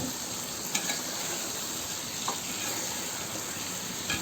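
Taro pieces frying in a spiced masala, sizzling and hissing steadily with occasional soft scrapes and clinks from stirring, close and fairly quiet with no talking.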